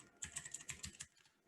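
Fingers type rapidly on a computer keyboard in a quick, close burst of clicking keystrokes that runs for about a second, then trails off into quiet.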